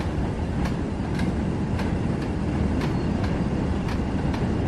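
A coal train rolls along steadily in the Train Sim World 6 video game, a loud continuous rumble with faint regular clicks of wheels over rail joints.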